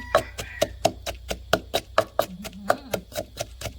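Green onions are sliced on a cutting board with a steady run of about fifteen crisp, close knife strikes in quick rhythm. A faint low voice murmurs beneath the chopping.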